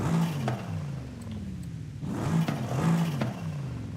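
A tuned car engine in Forza Horizon 5, fitted with a lighter flywheel, revs up quickly twice in quick succession, rising and falling in pitch with a dip into near idle between the rises, loud and close throughout.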